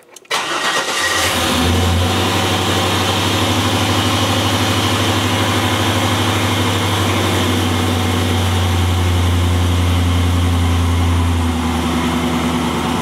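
A 1986 Monte Carlo SS engine cranks briefly, catches and settles into a steady, loud, close idle with a deep, even rumble.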